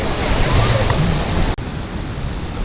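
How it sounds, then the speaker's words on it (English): Steady, loud roaring surf of ocean waves breaking at Playa Cocles beach, a dense continuous wash with a brief dip partway through and no voices over it. "We're on Playa Cocles Beach here, and we've just come in."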